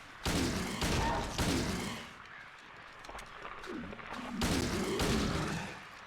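Gunfire in Silent Hill 2: bursts of loud shots in two clusters, one at the start and one near the end, with a quieter stretch of thuds and shuffling in between.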